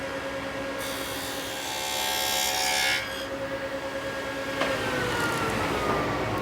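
A table saw cuts a slot through plywood for an under-saw storage cabinet, a loud whining rasp rising for a couple of seconds then easing to a running hum, close and without talk.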